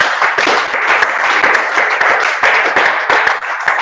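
A church congregation applauds the Lord with sustained, dense clapping throughout, loud and steady with crowd energy and no clear talk over it.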